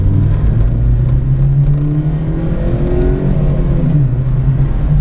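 A Chevrolet Celta 1.0 engine drones loudly from inside the car, its pitch rising gradually as it accelerates, with steady road noise beneath.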